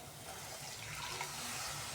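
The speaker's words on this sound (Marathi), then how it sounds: "त्याच्यामध्येच पाणी घालून घेऊया." Water pours steadily into a pan of frying masala for egg curry, a soft continuous splashing and gurgling heard close up with no talk.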